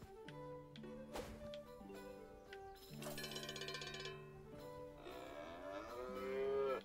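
A cow moos in South Park The Stick of Truth over steady game music, with several drawn-out lowing calls rising near the end, moderately loud and close.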